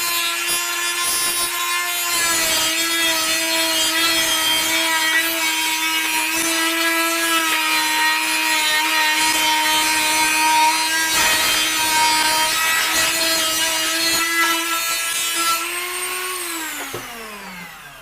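A power tool trims wood for a DIY ammo box boom box with a loud, steady whine close by, carrying bursts of cutting noise. The motor spins down near the end.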